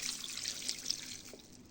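Half a litre of liquid is poured onto shredded cabbage for salad, giving a soft, steady splashing trickle with a few faint drips, close by and fairly quiet.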